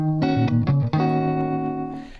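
A sampled guitar plays a short run of plucked, ringing notes that sustain and fade, clear and close with no voices.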